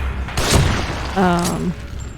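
A single heavy gunshot while shooting enemies in The Evil Within, a sharp booming report near the start, followed by a voice talking over the fading tail.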